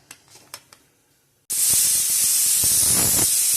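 A pressure cooker whistle blasts loud and steady for about two seconds as mutton cooks inside, a sharp high hiss of escaping steam that follows a quieter stretch of faint kitchen clinks.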